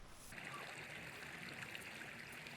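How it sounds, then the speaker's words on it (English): A creek trickles through a cold forest, a faint, steady wash of running water with small gurgles, heard from nearby at low volume without any voices. "Got the trickling creek behind me, so killer spot for sure."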